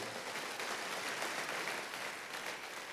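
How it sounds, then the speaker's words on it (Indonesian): A church congregation claps enthusiastically during a worship service. The crowd applause is steady and sustained, with a fairly distant, roomy sound. "Ayo tepuk tangannya yang paling meriah buat Tuhan kita."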